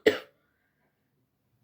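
A single short cough, close and fairly loud, ending abruptly into silence.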